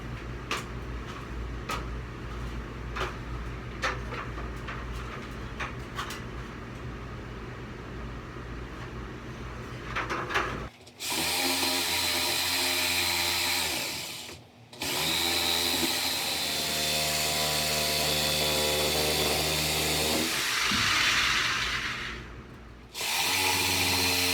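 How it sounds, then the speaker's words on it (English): A handheld jigsaw cuts through wood in long, harsh buzzing runs close by, broken by brief pauses where the blade stops before starting again; no one speaks. "I'm just going to have to suffer with the jigsaw."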